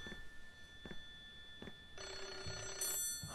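A phone rings in a room in the Japanese horror video game Hollow Cocoon: a loud, sustained ring that arrives after a few soft thumps, alone with no talking.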